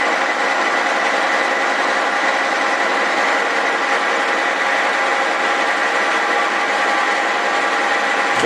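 A machine spindle on a cylinder head resurfacing machine for a Willys F head runs with a loud, steady mechanical whine and hum that stays even throughout.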